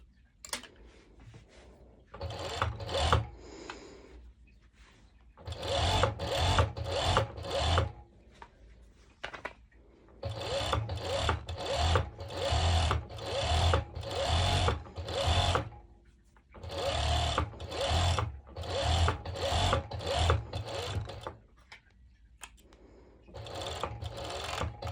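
A sewing machine stitches elastic onto the wrong side of mesh fabric for a sporty top, running in repeated close bursts of rapid whirring separated by short pauses.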